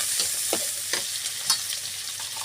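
Chopped onion and slit green chilies fry in a hot pan with a steady hiss of sizzling, broken by a few spatula scrapes as they are stirred, close and moderately loud.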